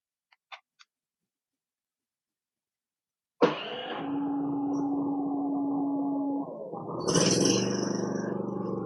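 A Philking 4200 inverter silent generator starts up automatically after mains power is lost. After a few faint clicks and near silence, it kicks in abruptly and settles into a steady running drone with a sustained hum. The tone shifts slightly near the end.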